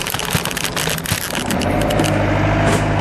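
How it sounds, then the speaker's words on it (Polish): A 1996 Fiat Ducato Hymer camper changes gear: a brief shuffle of mechanical clunks and rattles, then the engine settles into a steady, louder drone heard up close from the cab. "Oj, musiałem zmienić bieg."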